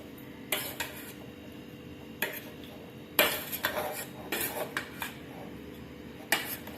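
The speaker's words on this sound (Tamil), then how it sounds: "நல்லா ஒரு வாட்டி கலரி விட்டுடலாம்" A spoon stirs raw papaya olan in a metal pot after water is added, making scattered light scrapes and clinks against the pot's sides, close and fairly soft.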